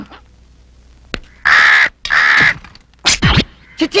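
A crow caws loudly and close by, two long harsh calls followed by a shorter burst of caws and a final brief call, with quiet pauses in between.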